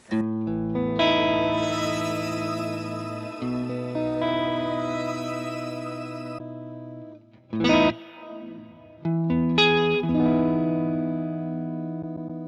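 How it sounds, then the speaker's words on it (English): An electric guitar played through the delay section of a Boss ME-90 multi-effects pedal, using shimmer and Tera Echo delays. Sustained chords ring out with lush repeating echoes and a shimmering wash, with a short strummed burst partway through and no voices. "We've got all of the delays that you'd expect, including shimmer and terror echo."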